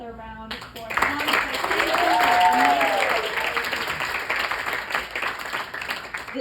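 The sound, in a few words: audience applause for performers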